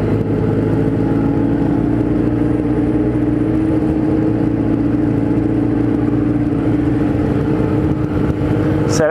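Motorcycle engine of a Kawasaki Z1000 warming up on a city ride, a steady close mid-pitched drone with slight rev swells and a higher whine at the end, continuous and loud.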